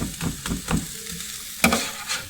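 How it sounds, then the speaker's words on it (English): Steady close-up sizzling and crackling of meat on a griddle, with scraping and stirring sounds over the hiss, ending with a sharp clatter. "That's what good meat sounds like."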